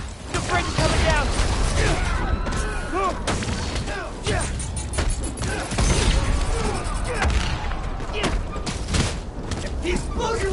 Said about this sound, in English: The bridge is coming down.